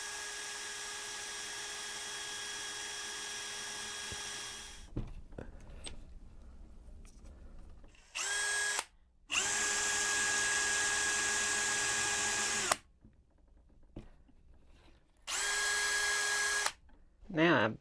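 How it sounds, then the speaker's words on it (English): A power drill whines loudly in several bursts: one long run, then shorter runs separated by quiet pauses, close to the microphone. "so I need to drill out this hole"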